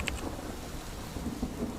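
Steady heavy rain with deep rumbling thunder, a dense continuous wash of falling water and low rolling booms with no break.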